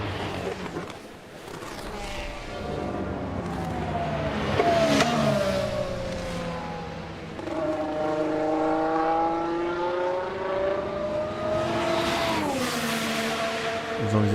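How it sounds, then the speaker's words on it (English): Formula 1 race car engines in the video game F1 Manager 2024 drone and rise in pitch continuously at the Italian Grand Prix, several cars revving and shifting gears with occasional tire squeal, steady and moderately loud. "So you'll start to hear car sounds."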